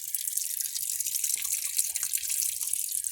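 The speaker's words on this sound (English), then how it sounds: "I'm going to give this another flush once it finishes gurgling" A 1974 American Standard Cadet toilet gurgles and trickles after a flush, a steady watery hiss of refilling with faint drips throughout, close and alone.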